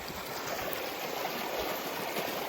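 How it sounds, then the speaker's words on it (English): Water runs steadily off a gravel road flooded by beavers, a continuous close rushing and trickling wash with no pauses and no voices. "how much water's running off of that?"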